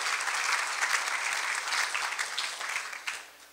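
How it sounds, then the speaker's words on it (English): An audience at an awards night applauds board members seated at a table, a full, close round of clapping that holds steady and then tapers off toward the end. "To our board members over at table number 5, please give them a great round of applause."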